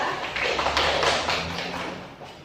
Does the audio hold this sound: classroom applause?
yes